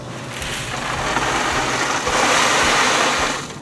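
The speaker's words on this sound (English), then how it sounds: "I can now quickly add some crushed stone" Crushed stone poured around the base of a mailbox post set in fast-setting concrete, a loud continuous rattling rush of gravel that swells and fades over a few seconds.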